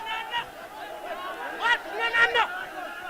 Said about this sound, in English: Crowd has been increasing minute by minute